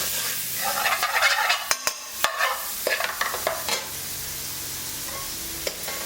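Chicken karahi in a thin sauce sizzles and fries in a pan on low gas, a steady broadband hiss broken by several sharp clanks and knocks of stirring utensils against the metal, with no talking.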